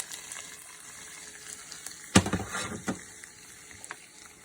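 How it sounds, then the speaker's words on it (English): Crab meat dropping into melted butter in a pan, a sudden close hiss and crackle that flares for about a second, then settles into a faint sizzle. "Add the meat to some melted butter."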